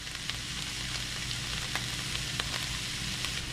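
Peppers sizzle steadily in a hot pan for a supper pasta bake, a dense continuous frying hiss with a few small crackles and pops, close and alone without talk.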